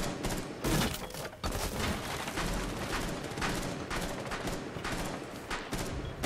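Rapid bursts of gunfire in the PC shooter Rainbow Six Siege, repeated shots in quick fusillades, fairly close and continuous across the stretch with no talk over it.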